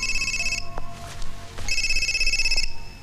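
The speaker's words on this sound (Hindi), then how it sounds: "माँ का फोन है।" A telephone rings loudly in two long electronic bursts separated by a short pause during a Hindi film scene, a call coming in from the mother while the family is at a hospital.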